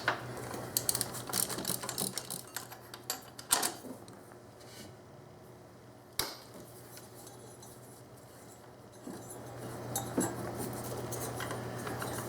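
A ratchet working loose the bottom valve cover bolt on a 3800 Series II engine, with quiet clicking pawl sounds in scattered bursts over a steady low hum, near but faint.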